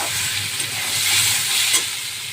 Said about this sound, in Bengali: আলু পটল আর পেঁয়াজ একদম কুচি কুচি করে কেটে নিয়েছি আর তাতে একটু টমেটো দিয়েছি দিয়ে রান্না করছি